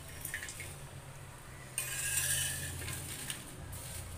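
Jackfruit seeds and peanuts roast in a pan, giving soft rattling, stirring scrapes and a light hiss that rises midway, fairly quiet and close with no speech.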